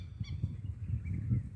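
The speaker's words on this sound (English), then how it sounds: "The birds are chirping, singing," Honking geese or similar fowl calling outdoors, a few harsh bursts over steady low rumble, moderately close and loud with no talk.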